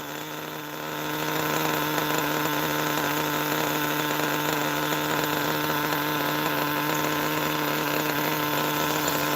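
A small engine idles steadily with a 3-needle carburetor being tuned, a constant buzzing drone that swells slightly after the first second and then holds even and close for the rest of the clip, with no talking.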